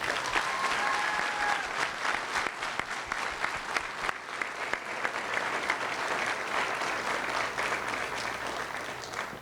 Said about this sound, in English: Big round of applause for our cadets.